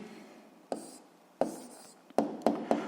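Pen on paper writing out an answer by hand, a quiet series of scratchy strokes and taps, five or six distinct bursts spaced unevenly, close and alone in a hushed room.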